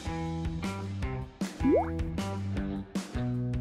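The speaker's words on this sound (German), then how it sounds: "Ich mische die Zutaten zusammen und fülle die Flüssigkeit in die Förmchen." Jelly liquid being filled into small moulds, a series of distinct drips and plops with tonal ringing, one rising gurgling pour in the middle, spaced irregularly and close up.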